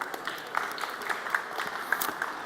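An audience at a startup conference applauds panelists taking the stage for an angel investing discussion, a moderate, somewhat distant patter of clapping with scattered sharper claps and whoops.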